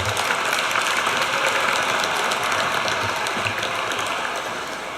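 Gala audience giving a sustained round of applause for a band and a caller, a dense even wash of many hands clapping that fades slightly at the end, with no speech over it.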